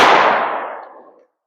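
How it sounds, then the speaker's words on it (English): A single 5.7x28 pistol shot at body armor, a sharp loud crack that rings and fades out over about a second, alone with no voices. "I shot over the strike plate on that first shot"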